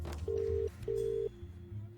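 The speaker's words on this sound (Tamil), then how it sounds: "என்ன ரிங் ஆகுது?" A phone rings on an outgoing call in a Tamil film scene, two steady ringback tones about half a second each with a gap between them, heard at moderate level over a low background hum.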